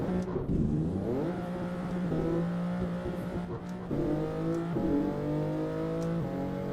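A car engine revving in a racing video game, rising and falling through repeated gear changes, with a steady droning tone that stays fairly loud and close.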